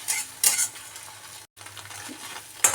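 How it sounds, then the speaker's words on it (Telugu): Beaten egg for fried rice fries and is stirred in a hot pan, giving a steady close sizzle with soft scraping strokes, a brief gap and a few louder scrapes. No voices. "లైట్గా మనము ఫ్రై చేసుకుందాం ఎగ్ని."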